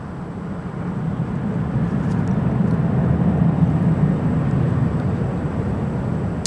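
A Southwest jet taking off from runway 24 Left at LAX, a steady broad low roar that swells slightly and then holds, heard continuously from a distance, with no voices over it.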